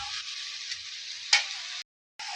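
Mashed drumstick (sojne data) fried in a pan, a steady bright hiss that breaks off briefly near the end then resumes, with one sharp scrape or tap partway through.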